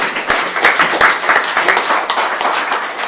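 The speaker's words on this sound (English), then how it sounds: "I'd like to give a round of applause for Chris Ridd from Xero." Audience applause at a startup event in Melbourne: loud, close clapping from a room full of people, a dense, continuous patter of hands without pause.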